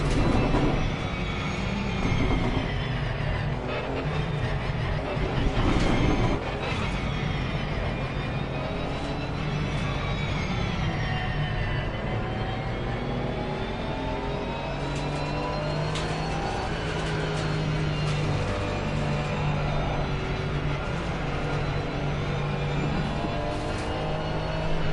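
Race cars idle and drone steadily through a slow formation lap at Silverstone in Assetto Corsa Competizione, with a continuous loud engine hum and gentle rises in revs throughout.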